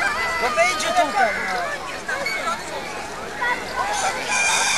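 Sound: roosters crowing at a rooster race

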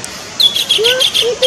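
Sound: kingfisher (burung tengkek) calling on a branch

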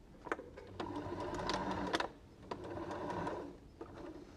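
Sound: sewing machine stitching around a fabric dinosaur taggy

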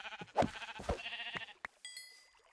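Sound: sheep bleating in Minecraft video game

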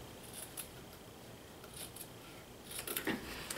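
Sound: cutting fabric with scissors

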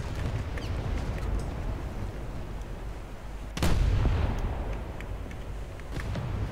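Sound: cruisers firing naval guns in War Thunder video game

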